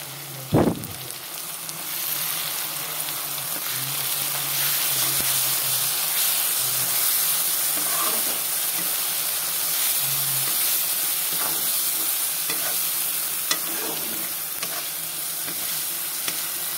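Ground chilli and cumin spices fry in hot oil for a fish chachchari curry, giving a steady close sizzle and hiss with occasional stirring scrapes and a sharp clank near the start.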